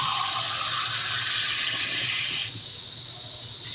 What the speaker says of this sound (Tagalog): Lagyan natin siya ng isang basong tubig.